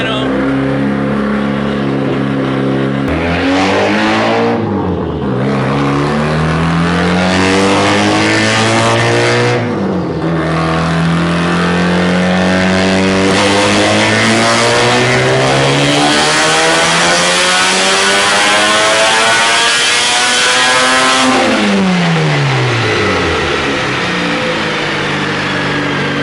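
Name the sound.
rotary engine car revving on a dyno pull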